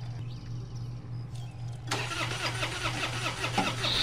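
Car engine in a video game cranking and catching, preceded by a steady low hum, then bursting into a loud, rough running rumble that continues to the end.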